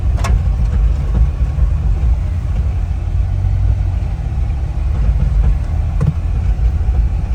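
A car rolls along a dirt road in two-wheel drive, its steady engine and tyre rumble filling the cabin at a loud, constant level, with a couple of brief knocks from the bumpy surface.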